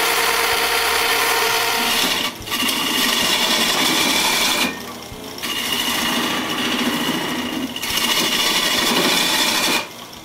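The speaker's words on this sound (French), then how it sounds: "j'aiguise la gouge." Woodcarving gouge being sharpened with a loud, steady high grinding hiss in long passes, broken by brief pauses between strokes.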